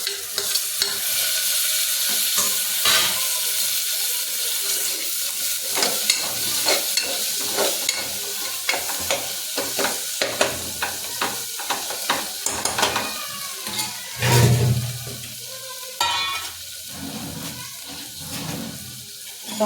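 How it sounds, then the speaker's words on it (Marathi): Chopped tomatoes tossed into a hot pan for a pumpkin bhaji, sizzling loudly while a spoon stirs and scrapes repeatedly, with a brief splash-like burst midway. "आता यात आपण चिरलेलं टोमॅटो टाकायचं."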